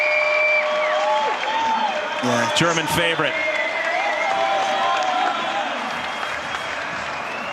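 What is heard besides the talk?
crowd cheering and applauding at urban slopestyle contest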